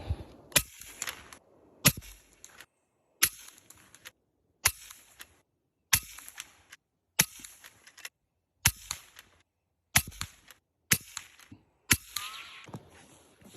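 Ten shots from an FX Impact M3 air rifle in extreme cold, each a sharp, loud crack followed by a brief rattle, evenly spaced a little over a second apart, with nothing else in between.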